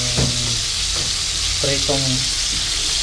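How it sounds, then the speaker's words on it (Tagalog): Barilis, a tuna-like fish, fries in a pan with a loud, steady, close sizzling hiss that never lets up, with a few faint tonal sounds in the background. "nagprito po ako ng isda guys"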